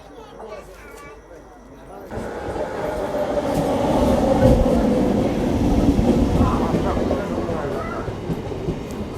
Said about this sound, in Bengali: দেখো ট্রেন চলে এসছে, ট্রেনে চেপে পড়ি এবার